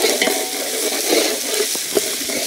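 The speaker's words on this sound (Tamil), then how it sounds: "நம்ம நல்லா போட்டு வதக்குங்க" Ginger garlic paste sautés in a hot pan, with a brief close sizzle and soft stirring scrapes and clicks of a utensil.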